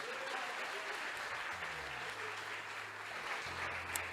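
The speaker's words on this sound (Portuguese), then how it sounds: "Você pode aplaudir e glorificar o nome do Senhor." A church congregation applauding during a bishop's sermon, a sustained rain of clapping at moderate distance, with a low voice or tone rising faintly beneath it near the end.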